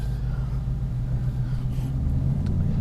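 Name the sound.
car driving along narrow country lanes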